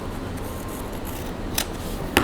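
Scissors cut through paper during a craft project making a decorative switch plate. Two quick, crisp snips stand out near the end against a quiet room hum.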